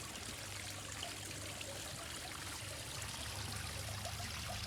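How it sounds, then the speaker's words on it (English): A small waterfall in a garden water feature trickles and splashes steadily, a soft, continuous pour with a faint low hum beneath, heard at a little distance and without any voices. "We've got the amazing water feature with the waterfall."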